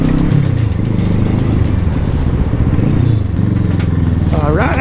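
A Bobber 650 motorcycle being ridden on city streets, its engine a steady low droning hum with shifting pitch as it revs, heard close and continuous with speech over it.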